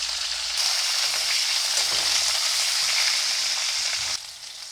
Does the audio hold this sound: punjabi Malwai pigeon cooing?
no